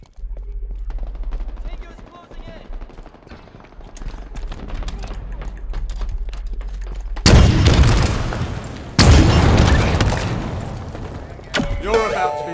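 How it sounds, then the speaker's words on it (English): Booming rocket launcher explosions in Halo Infinite multiplayer crash in two heavy bursts midway, then a third near the end, over steady game sounds and gunfire with talk throughout. "First time using rockets."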